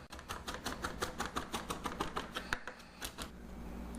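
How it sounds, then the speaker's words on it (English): Two spring onions are chopped outdoors with a knife on a board: a fast, even run of sharp taps, close and steady, that slows and trails off near the end. "Right now I'm chopping up 2 spring onions, just 2"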